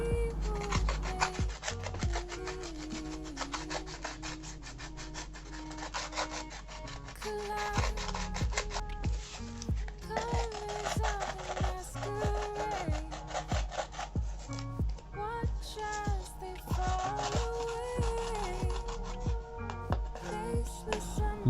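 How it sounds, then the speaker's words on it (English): A steel wire brush scrubs back and forth over cardboard to clean an area before mock welding, giving a steady, close, rasping scratch that runs continuously with rhythmic strokes and no talking. "use the steel wire brush to clean the area that need to be welded"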